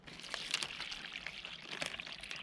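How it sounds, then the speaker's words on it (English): Water poured into a US Army MRE bag, a close, continuous splashing trickle with small bursts of gurgling, moderately quiet and without speech. "fill with water first"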